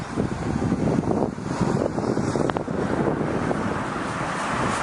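Strong wind buffets the microphone outdoors during a walk around town near a church, producing a loud, continuous low rumble and roar that never lets up, with no clear voices.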